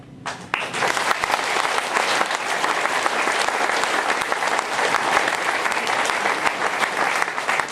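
Sustained, dense applause from a crowd at an election-night gathering in Le Beausset, starting abruptly and continuing loudly and evenly throughout.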